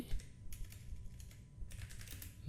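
Keys clatter on a computer keyboard in quick bursts of typing with short pauses between, close and clear, with no one speaking.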